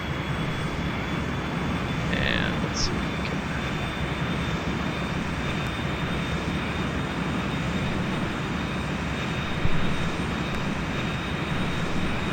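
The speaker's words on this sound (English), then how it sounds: "You can hear the engine starting up, I believe." Simulated aircraft engine in the X-Plane 10 flight simulator, starting up and settling into a steady, loud broadband roar that runs throughout, with a voice speaking briefly near the start.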